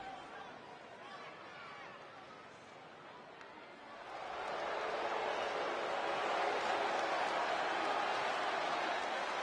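The crowd in a WWE 2K20 wrestling arena is first a low murmur under commentary, then swells at the midpoint into a loud, sustained roar and cheering that holds to the end.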